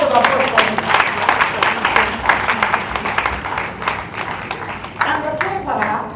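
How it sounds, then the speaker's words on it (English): Applause from an audience at a university ceremony, with the Vice Chancellor standing, dense clapping filling the room at a steady loud level while voices carry faintly underneath. "Please, a round of applause for him."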